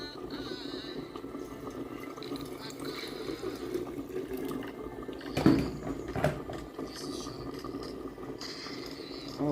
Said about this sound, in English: And add a little water on it.